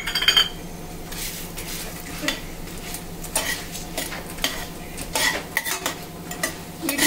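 Corn flakes stirred and fried in a pan for street-style peas chaat, with steady scraping and clinking of a utensil against the pan over a soft sizzle, close and continuous with no talk.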